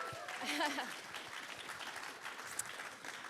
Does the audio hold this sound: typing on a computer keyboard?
no